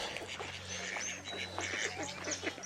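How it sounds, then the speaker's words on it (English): Ducks quacking nearby in a busy outdoor scene, overlapping calls with other birds chirping and some background noise. "I'm very close to the ducks. You will hear them before."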